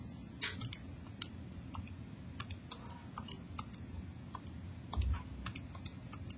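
Keys being pressed on a calculator to enter a function, a series of small, quiet, irregular clicks over faint room hiss, with no talking.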